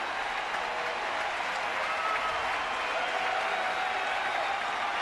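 A sellout baseball crowd at AT&T Park applauds and cheers in a broad, steady roar of clapping, standing for a 1-2 count during a perfect game, with faint talk beneath.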